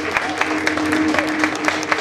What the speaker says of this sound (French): En applaudissant ce monsieur.